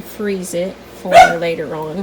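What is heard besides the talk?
dog barking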